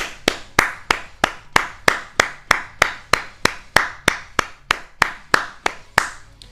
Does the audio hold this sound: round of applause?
yes